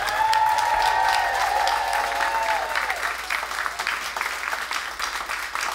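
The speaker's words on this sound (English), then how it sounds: "can we have a huge round of applause for the two opening acts" Concert audience at The Cluny breaks into sustained applause with scattered cheers and whistles for the opening acts, dense and loud at first, then thinning slightly while a sustained tone fades early on.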